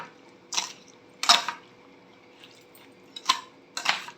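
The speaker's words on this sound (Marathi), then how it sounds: "लोणचं एकत्र करून घेऊया" Mango pickle being stirred together with cooled tempering poured over it, giving four soft, wet squelching bursts spaced apart, close and fairly quiet, with no one talking.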